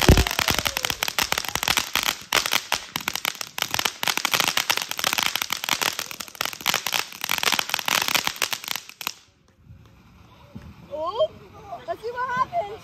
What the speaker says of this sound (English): Some other big fireworks right there.